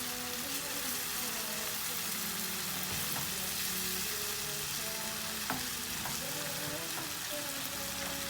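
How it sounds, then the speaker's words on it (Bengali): Loitka shutki dried fish sizzles as it is added to fried spices in a pan, a dense, close frying hiss with scattered clicks and scrapes of stirring throughout. "আমার মশলাগুলা হয়ে গেছে ভাজা, আমি এখন শুটকিটা দিয়ে দিচ্ছি।"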